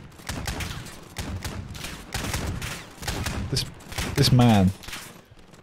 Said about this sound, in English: He's just like constantly shooting the shit out of me.